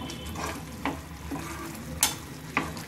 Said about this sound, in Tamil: இப்போது இது நம்ம அதோட நல்லா பிளெண்ட் ஆகி எண்ணெயோடு சேர்ந்து அது எண்ணெய் பிரிகிற அளவுக்கு வதங்கணும்